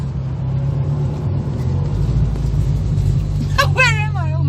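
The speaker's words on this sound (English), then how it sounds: "Oh, shifting gears." A car's engine drones in a low, steady rumble as it moves through a gear change, and a voice speaks briefly over the noise near the end.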